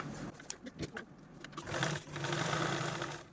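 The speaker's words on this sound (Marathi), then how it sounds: "तर चला आता आपण स्टिच करून घेऊया" A sewing machine stitches fabric for an iron cover, its motor whirring close by, starting in short bursts and then running steadily into a sustained, moderately loud hum.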